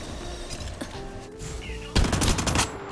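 Near the end, a video game machine gun in High Energy Heroes fires a loud, rapid burst lasting about half a second, following quieter game sounds.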